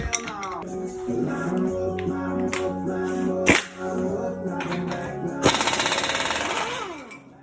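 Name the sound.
loosening the axle nut on a Subaru Outback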